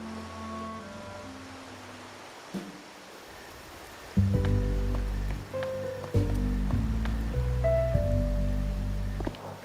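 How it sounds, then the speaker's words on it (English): Steady rain hisses in the video game Wuthering Waves, growing heavier partway through and running beneath sustained musical tones, with no voices. "The rain's back."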